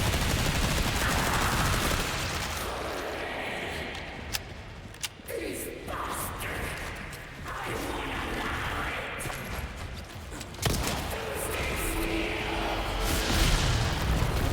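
Gunfire in the video game Resident Evil 4 rings out as loud, repeated shots and booming blasts over a dense, noisy game soundscape.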